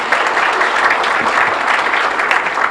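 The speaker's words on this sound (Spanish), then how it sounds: "Fuerte aplauso para todos nosotros" A congregation at Mass in the Virgen del Carmen chapel breaks into strong, sustained applause, a dense even roar of many hands clapping together without a break.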